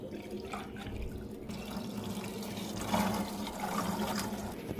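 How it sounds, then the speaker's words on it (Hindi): Tap water runs steadily in a home kitchen while water bottles are filled, a continuous rushing splash that swells slightly partway through, with no talk. "अब मैं फटाफट ना पहले पानी की बोतलें भर के रख दूँ"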